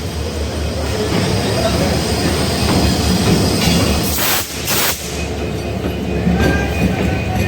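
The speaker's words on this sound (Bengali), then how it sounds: "আর এই যে ইঞ্জিন ঘুরে পিছিয়ে যাচ্ছে" The Burimari Express locomotive turns and backs along the track at a station platform, its wheels and cars rumbling loudly and continuously with a few sharper clanks partway through.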